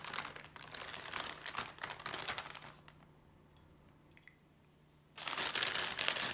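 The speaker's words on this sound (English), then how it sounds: "I'm going to add a couple flakes of cold soy wax just to help it cool" Cold soy wax flakes handled and dropped into a pot of melted wax, with close, crisp crinkling and rustling in bursts, a quieter lull in the middle, then a loud crinkly rustle again at the end.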